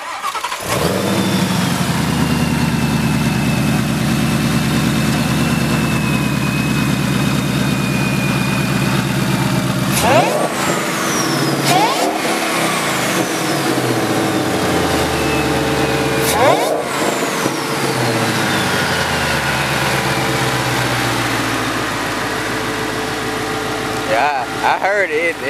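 An 800hp supercharged Ford Shelby GT500 starts, idles loudly and is revved several times with a high supercharger whine nearby, while people talk over the steady engine rumble.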